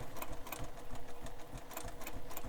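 A sewing machine runs steadily, double-stitching bindings onto a Jack sling pack, a continuous close mechanical whir with rapid needle clatter and no pauses.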